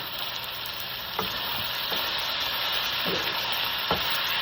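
Beef with mushroom and asparagus stir-frying in oyster sauce, a constant close hiss of sizzling with a few sharp spatula scrapes and taps against the pan, no voices.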